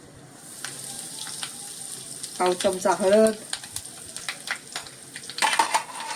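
Mustard seeds, asafoetida and turmeric crackle and sizzle in hot oil in a kadhai for a cluster-bean and potato bhaji, a steady close hiss with a burst of popping as a voice speaks briefly.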